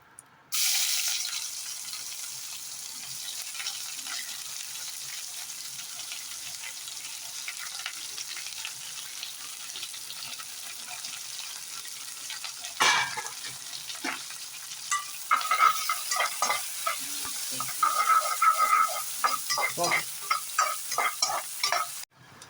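Large sliced onions with a few curry leaves sizzle steadily in a hot pan, broken by the scrape and clatter of stirring that grows busier toward the end; no one speaks.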